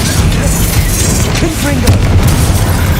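A Bombarda spell explosion in the video game Hogwarts Legacy, a loud, dense boom with rumbling low end that fills the whole moment, heavy and continuous rather than a single sharp crack.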